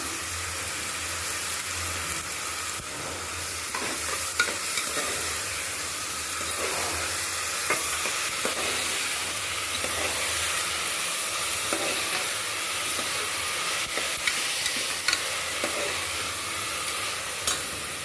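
Curry leaves and rock salt sauté in a pot for goat head curry, a continuous frying hiss and sizzle with soft stirring scrapes throughout, moderately loud and steady, without speech.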